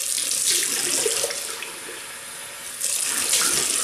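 Warm water runs steadily from a bathroom tap for rinsing after a wet shave, a continuous close hiss and splash that dips briefly in the middle and then swells again, with no talking.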